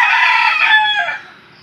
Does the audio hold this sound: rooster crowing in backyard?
yes